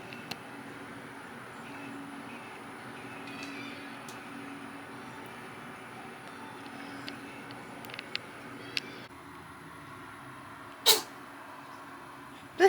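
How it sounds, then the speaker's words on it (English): Mostly quiet room tone with faint clicks, then a single short, sharp sneeze from a cat near the end. "Bless you, Artie."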